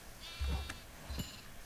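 Sheep bleating in a Minecraft-style farming video game, two short low bleats close together, faint under a steady background hum, with no talking.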